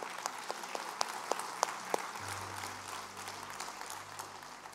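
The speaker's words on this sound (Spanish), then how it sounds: "denle un aplauso al Señor" Scattered, sparse hand claps from a small church congregation applauding the Lord during a Spanish-language sermon, faint and fading after about two seconds into a low room hum.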